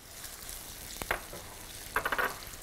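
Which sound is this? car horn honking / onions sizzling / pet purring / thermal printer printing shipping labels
onions sizzling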